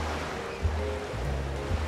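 Sea waves wash onto a beach with a continuous low rushing surf and soft swells rising and falling, heard close and steady.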